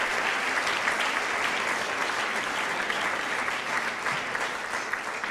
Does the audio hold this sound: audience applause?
yes